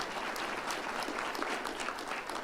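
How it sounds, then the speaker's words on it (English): Applause from the audience at a keynote breakfast with a congressman, a dense, even wash of clapping held at steady moderate loudness through the short stretch. "it deserves a round of applause"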